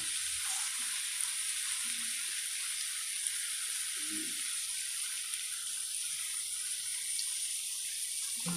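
Soy sauce sizzles in a frying pan, a steady, bright hiss that fills the whole stretch, close and even, with a few faint low bumps underneath.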